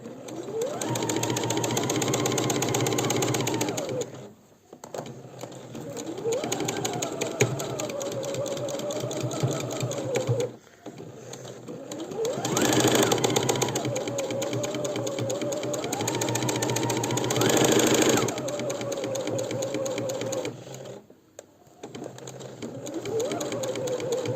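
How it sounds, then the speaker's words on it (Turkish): A sewing machine stitches a double-sided cardigan in long continuous runs of fast, even whirring, broken by brief pauses before each new run starts. "bir makine ayağı kenarda olacak şekilde dikmeye başlıyoruz"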